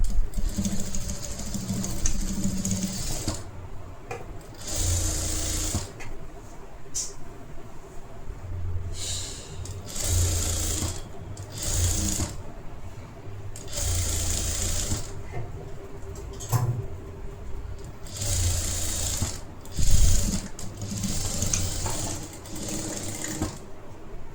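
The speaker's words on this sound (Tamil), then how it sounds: "அதுக்கப்புறம் ஓவர்லாக்கிங் பண்ணிக்கோங்க" A sewing machine runs in bursts of stitching and overlocking along blouse fabric, whirring and rattling steadily up close with short pauses between runs.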